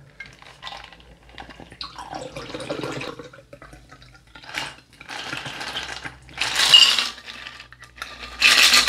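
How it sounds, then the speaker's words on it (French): Liquid splashes and glass clinks come in short bursts as a margarita cocktail is poured into a glass, close and fairly clear with no talking. "il ne vous reste plus qu'à verser votre margarita"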